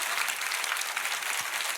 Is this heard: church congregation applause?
yes